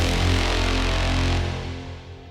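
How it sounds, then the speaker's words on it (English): Sustained brass layer in a dancefloor drum and bass track, blended with a pad and drone loop into a dense, loud wash that fades slightly toward the end. "some brass"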